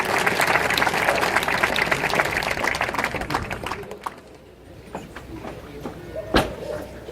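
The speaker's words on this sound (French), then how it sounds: "On peut l'applaudir." Theatre audience applauding the troupe's prompter: dense, loud clapping fills the first four seconds, then thins and fades into scattered claps and a few isolated sharp knocks.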